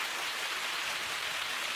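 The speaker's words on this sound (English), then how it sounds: "Stand by for the cheer." Crowd at a 2017 snooker match cheering and applauding, a dense, steady wash of clapping and roar that fills the short clip with no talking over it.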